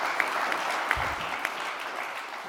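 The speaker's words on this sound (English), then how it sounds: "Applause never stops." Steady applause from an audience at the closing ceremony of an e-skills conference, a dense even wash of many hands clapping with a few sharper claps standing out, continuous throughout.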